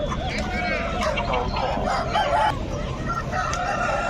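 A rooster at a Nallapadu poultry market lets out repeated crows amid constant clucking of other birds, with people talking underneath the continuous crowded barnyard noise.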